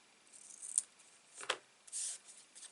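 Scissors cutting card paper strips into narrow pieces for a handmade shadow box shaker card: a few short, faint snips spread across the moment, with a brief sliding rasp, no talking.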